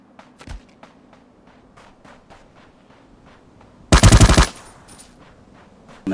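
A short burst of rapid automatic gunfire in Ring of Elysium, loud and close, with one earlier single shot and faint distant pops across the rest of the clip.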